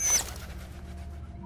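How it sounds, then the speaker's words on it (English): A bird cooing in the horror game Angels of Death, one short soft dove-like coo at the start, then a faint game background drone. "Bird!"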